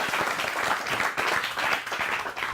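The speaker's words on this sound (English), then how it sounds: "Round of applause for contestant number 2." An audience gives sustained applause for a contestant at a blockchain pitch event, a dense, even roar of many hands clapping for a couple of seconds, with no talking over it.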